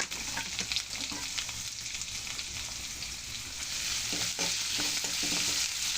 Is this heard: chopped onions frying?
yes